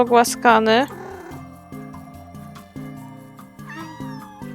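Cats meowing in the video game Minami Lane, two loud rising meows near the start, then a fainter third one later, set over light looping game music with no talk.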